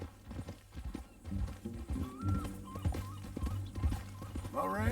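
Horse hooves in Red Dead Redemption II clopping in an uneven rhythm close by, mixed with snorts and brief game voices.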